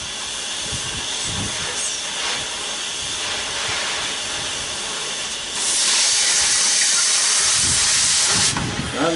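A torch flame hisses steadily while brazing a weld on the copper line of a sealed refrigeration unit, with a constant close rushing sound that grows louder partway through and briefly drops back near the end.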